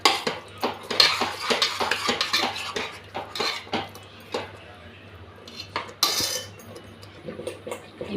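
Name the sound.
mixing curd into chicken biryani masala in pot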